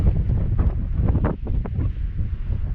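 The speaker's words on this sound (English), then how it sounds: "Luckily the wind's keeping us kind of cool, but it's just really, we're walking straight into it." Strong gusty wind buffets the microphone on a steep climb out of a desert canyon in Big Bend, a continuous low roar with a few faint scuffs and no talk.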